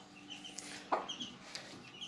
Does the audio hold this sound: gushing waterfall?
no